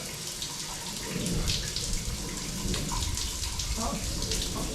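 Water running from a single shower in a small campground bathhouse at Usery Mountain, a steady, close hiss of spray that continues throughout, with low voices in the background.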